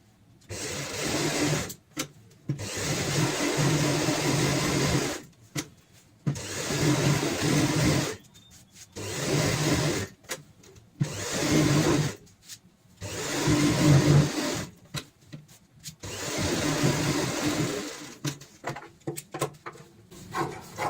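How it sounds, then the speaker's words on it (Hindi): A sewing machine stitches along the edges of a designer cushion cover made of main fabric, foam and lining, running in loud whirring bursts of a few seconds separated by short silent pauses. "तो यहाँ पे हम इस तरीके से सिलाई लगाएंगे।"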